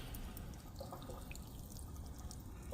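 Engine oil drains steadily from a 2019 Hyundai Santa Fe into a pan, a continuous faint trickling pour with no breaks.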